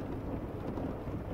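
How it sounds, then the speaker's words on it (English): Rain striking a roof with thunder rumbling through it, a dense, unbroken wash of heavy low roar that stays steady throughout. "losing myself in the tinny sound of rain striking the roof"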